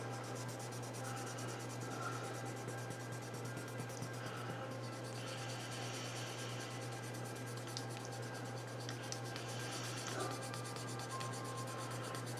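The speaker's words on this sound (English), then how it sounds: "Sand in this direction." Wet sanding a plastic model Tiger 1 tank kit with fine micro sandpaper, a faint steady rubbing and scratching that runs continuously under a low constant hum, close and quiet.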